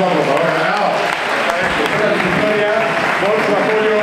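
An awards ceremony audience applauds in a dense, continuous round of clapping at the Gastromia Victoria 2018 awards in Marbella, with voices faintly mixed in.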